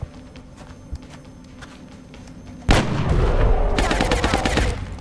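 After a quiet stretch of low game ambience in XCOM Long War, a loud gunshot cracks in sharply, followed by a rapid string of automatic shots that continues to the end, with no voices.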